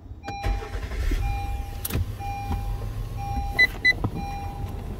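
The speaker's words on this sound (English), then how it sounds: "Then you want to turn your engine on." A car engine is started with a brief crank that catches into a low idle. Sharp clicks and a couple of short electronic chimes sound in a quiet cabin.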